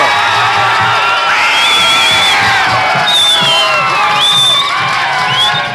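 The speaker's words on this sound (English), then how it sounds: "Let's see what the crowd's ready to do right now." Crowd at a 2003 Wampus Cat high school football game against Van Buren cheering, whooping and shouting loudly and steadily, with piercing whistles and high children's yells rising over the dense roar.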